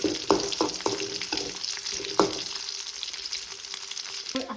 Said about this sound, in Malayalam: കുറച്ച് വെളിച്ചെണ്ണ മതി എല്ലാം കൂടെ കിടന്നൊന്ന് മൂക്കട്ടെ ഉള്ളിയൊക്കെ കുറച്ച് ബ്രൗൺ കളറാവും